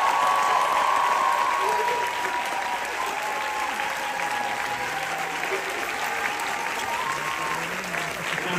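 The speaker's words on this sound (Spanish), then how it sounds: "Un fuerte aplauso para todos ellos" A theater crowd applauds steadily and loudly throughout at the 100th performance of the musical "El mago", sustained clapping with a faint tone running underneath.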